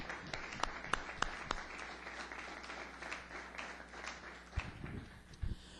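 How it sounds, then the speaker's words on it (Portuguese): A church congregation claps in praise, the applause fairly faint and loose, with scattered individual claps standing out and tapering off toward the end; no voices. "Mais uma salva de palmas ao Senhor Jesus."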